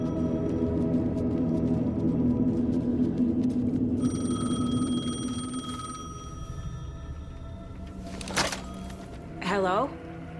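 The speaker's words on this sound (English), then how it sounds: "phone was ringing. Somehow I knew the call was for me." A telephone rings in the video game Alan Wake 2, an electronic ring sounding in short repeated bursts over a low ambient drone, followed by a clunk and a brief rising tone.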